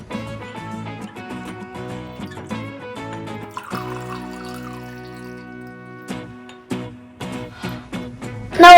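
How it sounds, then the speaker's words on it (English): Water pours into a cup in a thin trickle, its pitch rising as the cup fills, close and clear over soft background music, ending with a louder clunk. "Now let's pour this water in the cup"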